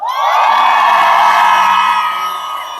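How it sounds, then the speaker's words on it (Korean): A large crowd at a candlelight protest rally outside the National Assembly in Seoul roars with sustained cheering and shouts, loud and full, slowly fading toward the end. "먼저 가신 우리 두 분에게 우리 지금 이제 모였다고 한번 박수와 함성을 보내주십시오."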